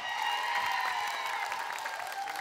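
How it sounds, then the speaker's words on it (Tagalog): Studio audience applauding on a Filipino noontime variety show, a steady wash of clapping and crowd noise held at even loudness throughout, with no break or pause. "titignan namin kung gaano kalakas ang palakpak nyo"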